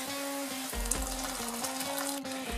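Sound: hot water being added to bone broth

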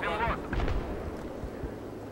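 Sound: gunfire hitting player in Battlefield 3 video game

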